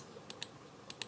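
Four quick, light keystrokes on a computer keyboard come in two close pairs over steady low background hiss.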